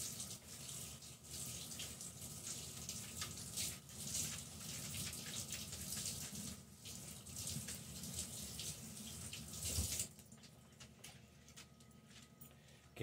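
Salmon fillet being rinsed under a running kitchen tap, a steady close hiss of water splashing in a sink, continuous for about ten seconds before cutting off abruptly, leaving quieter background.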